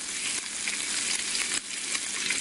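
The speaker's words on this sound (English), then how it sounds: "That would be flesh sizzling" A sizzling sound effect like food frying, a bright continuous crackle with small pops, close and fairly quiet, with no talk.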